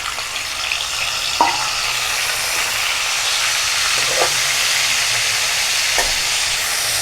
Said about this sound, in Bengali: মাছটা একটু হালকা ভেজে নেব। কড়াইতে দিয়ে দিলাম তেল, তেলটা গরম হয়ে গেছে